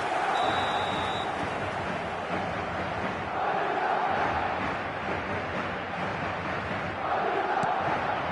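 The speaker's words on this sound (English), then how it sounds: "the crowd level has gone up a notch or 10" A stadium crowd in the football video game eFootball roars after a goal, a dense, loud wall of cheering and chanting that swells in waves and holds throughout.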